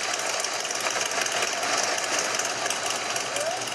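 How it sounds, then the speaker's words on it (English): Harley-Davidson motorcycle engines rumble outside a Harley-Davidson dealership during a memorial group ride, a steady, close, throbbing engine drone with a rapid pulsing beat throughout. "Engines roared outside of Copperhead Harley-Davidson this morning"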